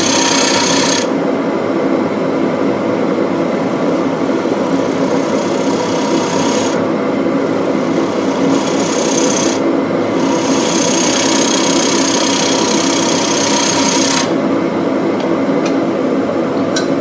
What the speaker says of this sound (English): Flatten up this surface a little bit.